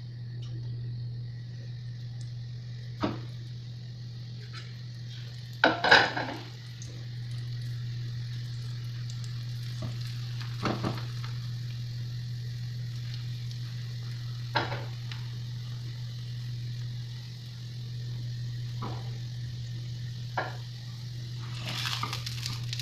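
Filipino-style paratha fries in hot oil in a pan, a soft steady sizzle running throughout, broken by a few sharp clatters and one louder burst of stirring or scraping; no one speaks.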